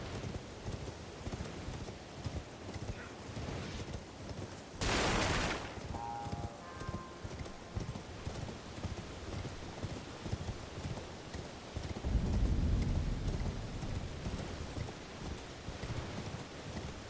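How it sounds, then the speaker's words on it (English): Horse hooves clip-clop steadily along a road in an Elden Ring-style video game, a continuous rhythmic thudding under wind-like ambience, with a brief loud burst partway through. "we're going to hop on our horse and head through that gate"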